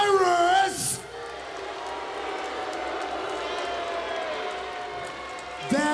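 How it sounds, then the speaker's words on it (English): A wrestling arena crowd at a TNA Bound For Glory event applauds and cheers loudly in a sustained roar, with a shout at the start and an announcer's voice at the end. "a round of applause for my man, Tyrus!"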